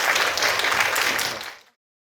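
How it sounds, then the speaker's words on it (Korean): An audience claps for the first speaker at a book concert for a tarot master, a dense burst of applause at steady strength that tapers off and stops after under two seconds. "네, 박수 한번 주세요."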